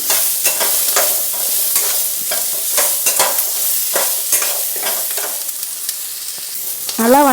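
Cumin sizzles and fries in an oiled pan for baby corn butter gravy, loud and steady, while a spoon scrapes and stirs in a regular rhythm close by.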